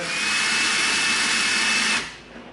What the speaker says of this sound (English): Go slightly larger on our drill bit.